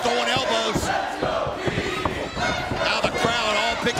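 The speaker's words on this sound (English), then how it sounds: "I think they're chanting and cheering for all three of these individuals" A wrestling arena crowd during a three-way match chants and cheers loudly, rhythmic shouts and roars filling the space, with thuds and a commentator's voice mixed in.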